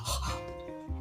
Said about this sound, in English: Sorry if you can hear our dogs breathing in the background.